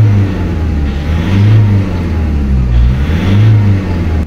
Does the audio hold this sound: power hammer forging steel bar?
no